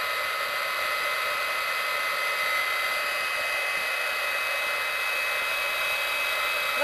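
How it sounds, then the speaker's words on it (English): A heat gun blows steadily and loudly throughout, melting embossing powder on a Cuttlebug-embossed card, a constant whirring roar with no speech. "And just get your heat gun and emboss it. I know this is kind of noisy,"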